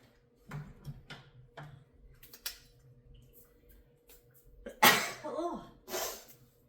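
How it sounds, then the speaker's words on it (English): A single sharp sneeze bursts out loud and close, preceded by faint breathy inhales and small clicks, with a brief second exhale or sniff shortly after. "Oh, I have to sneeze."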